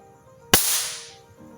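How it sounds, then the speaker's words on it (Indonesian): A single sharp, loud crack from a homemade electric pig stunner discharging its capacitor at around 400 to 450 volts DC, bursting out abruptly and decaying over about half a second in an otherwise quiet setting. "ini mengeluarkan suara ledakan karena di bagian output strum ini yang bagian kejutnya memakai penampung strum yaitu elko."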